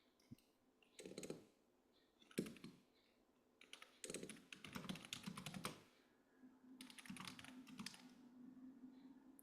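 Someone typing a username on a computer keyboard, quiet close clicking in short irregular bursts separated by pauses, with a faint hum underneath.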